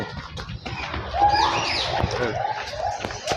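A large bird at a wildlife park gives drawn-out calls amid outdoor background noise, moderately loud and close, while people nearby make sounds in the background.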